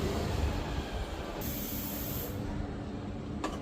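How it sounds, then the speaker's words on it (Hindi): A pressure cooker cooking dal lets out a steady, loud hissing rush of steam, with a sharper high-pitched whistle rising in the middle and then easing off; no one speaks. "दाल चढ़ाई है, सीटी लग रही है।"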